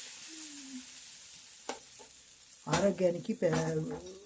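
Pesarattu, a moong dal dosa, cooks in oil on a pan with a soft, continuous hiss. A couple of light utensil taps cut through, and a voice speaks over the sizzle near the end.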